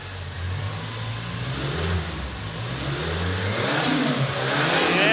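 Turbocharged Toyota Hilux engine running on ethanol, a deep throbbing idle that builds into a rising rev with a turbo whistle climbing near the end, loud and close, no voices.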